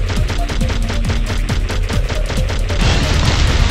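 Rapid gunfire from the player in Crash Bandicoot: The Wrath of Cortex: a fast, steady stream of punchy repeated shots with layered game effects and music underneath, loud and continuous for several seconds with no speech.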